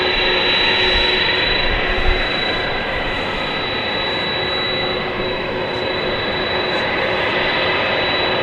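A DHL cargo plane at DFW Airport taxis toward the east side for takeoff to Cincinnati, its jet engines giving off a steady, broad roar with a thin high whine, heard from a moderate distance.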